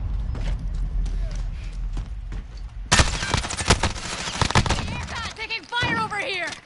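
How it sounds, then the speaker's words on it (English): Gunfire in the Fortnite video game, at first a scatter of sharp shots, then dense rapid bursts that grow loud and close, mixed with other game sounds. "Taking fire over here."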